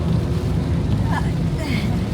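Typhoon Crising wind and rain in the Philippines make a steady, loud, broadband roar that continues without break from start to finish.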